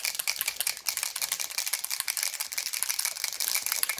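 A Too Faced Peach Mist Mattifying Setting Spray bottle is shaken hard close up, giving a rapid, continuous rattling clatter with no talk.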